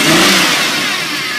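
A car engine being revved by working the throttle, in a car that had caught fire: a loud, steady roar that holds high and then eases slightly, heard alone without speech.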